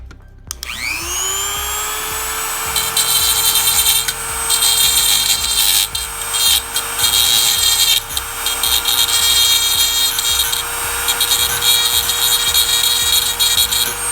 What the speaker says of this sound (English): So let's get the other wheel off.